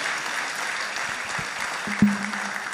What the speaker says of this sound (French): On applaudit Madame la ministre.